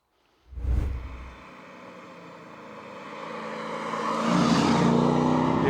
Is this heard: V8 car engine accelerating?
yes